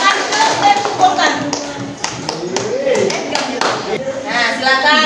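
Classroom of students clapping in scattered, uneven bursts, with children's voices and chatter running over and between the claps throughout.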